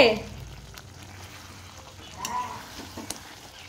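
Mutton with fried potatoes and papaya sizzling in a pan while being stirred, a steady frying hiss with a few scraping clinks, close and moderately loud with no talking.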